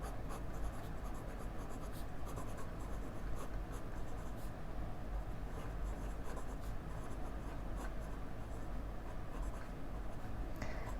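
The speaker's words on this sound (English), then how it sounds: "I'm just going to write Pro Gear after, then Colorverse Sunbeam." A Walltown Watts fountain pen with a medium 21 karat gold nib scratches steadily across paper, a continuous close, dry rasp with no break, and no talking.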